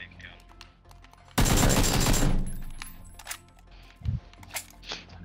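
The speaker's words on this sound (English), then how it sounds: "It definitely sounded like an AK shot." A loud, rapid burst of AK rifle fire in the video game PUBG crackles for about a second and then trails off into echoing decay, with a few faint thumps and clicks afterward.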